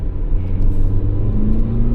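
Tata Sierra with a 1.5-litre GDI petrol engine making 158 bhp accelerating hard, a loud close engine drone with a rising whine under steady road rumble, no talk.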